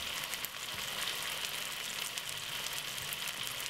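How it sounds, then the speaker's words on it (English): Garlic beef steak frying slowly in oil in a pan, a dense, even hiss and sizzle close up, continuous and without voices. "So what I'm going to do is take my little time and fry it just like that."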